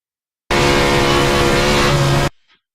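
A race car on the Knoxville dirt track roars at full throttle along the wall, a loud, dense and sustained engine blare close by that cuts off abruptly after about two seconds.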